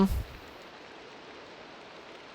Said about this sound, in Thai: ถ้าสมมุติว่าเสียงฝนมันเข้าไปอ่ะผมก็ขอโทษด้วยนะครับคือฝนมันตกหนักจริงๆ อ่ะ